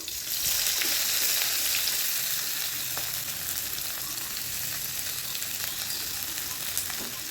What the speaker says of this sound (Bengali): তেলের মধ্যে দিয়ে দিচ্ছি পেঁয়াজ কুচি